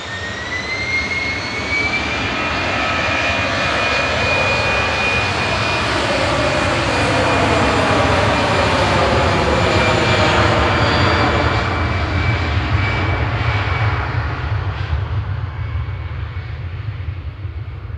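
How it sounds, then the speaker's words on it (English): An Iberia Airbus A320 jet departs Manchester Airport, its engines roaring loud and steady for the whole stretch with a whining tone that slowly shifts as it climbs away. "Iberia heading back to Madrid with flight 1892 ECLUS A320 Classic."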